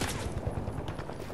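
Dense, rapid gunfire from a shooter video game, a loud, continuous burst of overlapping shots with no pauses.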